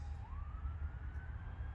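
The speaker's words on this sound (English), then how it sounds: "Sorry about that siren." A distant emergency siren wails with a rising pitch over a low traffic rumble, fairly faint.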